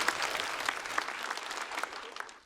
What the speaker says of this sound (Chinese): 我们都把掌声送给今天表演的8位